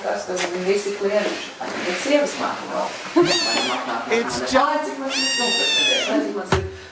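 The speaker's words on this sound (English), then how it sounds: "he's just meowing" A Munchkin kitten meows on a played-back recording, giving two clear, drawn-out meows amid steady adult talk that runs over and around them.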